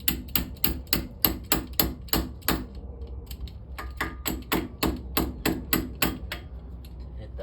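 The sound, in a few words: hammering a cotter pin into a ball joint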